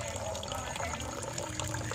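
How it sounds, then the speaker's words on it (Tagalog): A weak flow of water runs steadily into an azolla pond, a continuous close trickling and splashing with no pauses, heard on its own. "Mahina lang po kasi ang daloy ng tubig mga kapatid."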